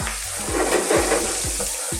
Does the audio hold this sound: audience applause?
no